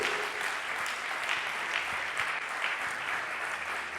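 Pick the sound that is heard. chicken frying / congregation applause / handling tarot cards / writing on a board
congregation applause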